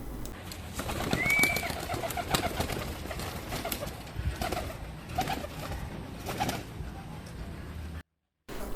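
Homing pigeons coo softly amid bursts of wing flapping and fluttering as one is held and its wings flapped, close and restless, with a brief moment of silence near the end.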